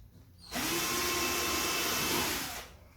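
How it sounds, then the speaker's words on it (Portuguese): A power drill bores a pilot hole into marine plywood scraps for a shelf, running as one steady, loud whine of about two seconds that starts abruptly and trails off, close by with no talking. "Vou fazer um furo guia aqui"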